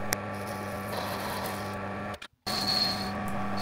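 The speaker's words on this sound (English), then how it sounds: "Now I'm parting off some spacers which will support the lap when we bore out its internal taper." A metal lathe parts off spacers with a steady mechanical hum and whine. The hum cuts out briefly to near silence, then resumes with a thin high-pitched cutting tone.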